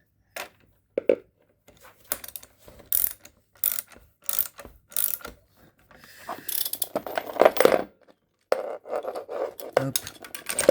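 A ratchet tightens a part on a Renault Twingo, with irregular short runs of close, crisp clicking broken by pauses, handling clatter and a stretch of louder mechanical noise near the end.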